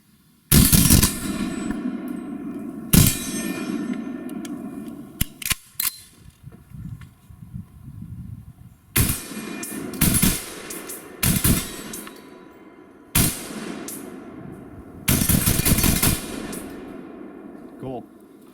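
Rifle shots fired outdoors with a low-cost SvBony SV174 2-7x32 long eye relief scope mounted, several sharp loud reports spaced seconds apart with echoing tails, with people talking between them.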